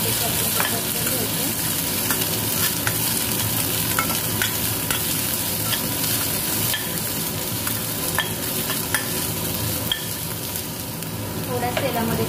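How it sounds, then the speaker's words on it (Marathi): Garlic sizzles in hot oil in a kadhai for a tempering, a loud, even crackling hiss running throughout with scattered small pops and faint clicks. "कढईमध्ये तेल टाकून घेतलेले. त्याच्यामध्ये आपल्याला मस्तपैकी लसणाची फोडणी द्यायची."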